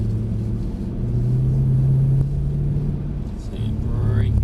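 Mercedes car driving on the Mercedes World track, a steady low engine drone with a slight rise in power, close and continuous throughout.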